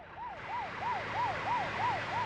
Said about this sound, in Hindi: बॉस, एम्बुलेंस है, मुझे लगा पुलिस है।